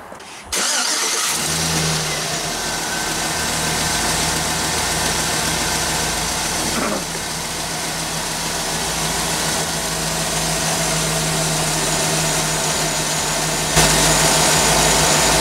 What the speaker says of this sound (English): Okay, start engine.